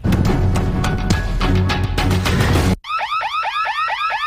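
A security alarm goes off loudly for a few seconds, its blaring tone giving way to a rapid, repeating electronic whoop.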